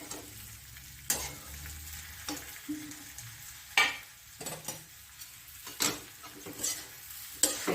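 Fried okra masala being stirred in a pan, with soft scraping and occasional sharp taps of the spoon against the pan over a faint background sizzle, quiet and irregular with no talk.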